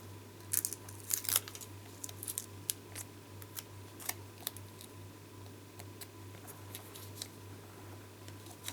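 Scissors snip paper for a pop-up butterfly card, a run of short, crisp cuts close by, irregular and fairly quiet against a low steady hum.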